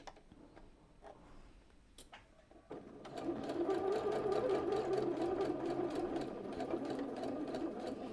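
A sewing machine stitching a shirt collar: a few quiet ticks and clicks, then the motor runs up into a steady, close, rapid whirring stitch rhythm that holds to the end, with no speech.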